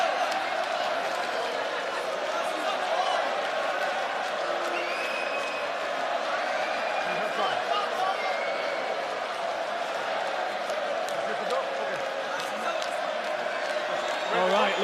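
A sold-out crowd at Coca-Cola Arena keeps up a steady, broad roar of cheering and clapping for the whole stretch, with a commentator's voice audible over it.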